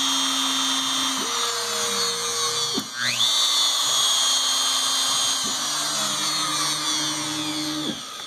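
A CNC test machine's router runs with a steady high whine, and its drilling motor changes pitch in several steps as it drills four coordinates. The sound is close and continuous with no talking.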